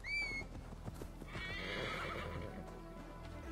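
A horse whinnies loudly at the start in Assassin's Creed Valhalla, then hooves clop in an uneven rhythm over a steady low rumble and outdoor ambience.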